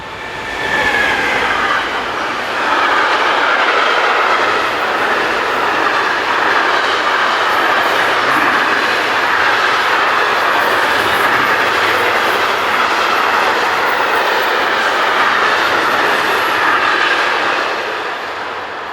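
A Class 185 electric locomotive, number 185515, hauls a southbound freight train along a German mainline, a loud continuous rolling roar of wheels and wagons passing close by for the whole stretch, fading slightly at the end.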